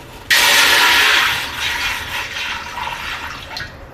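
Water gushes loudly into a pot on a gas stove with a sudden start, then settles into a softer, splashing pour that tapers off over a few seconds.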